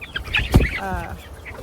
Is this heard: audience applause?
no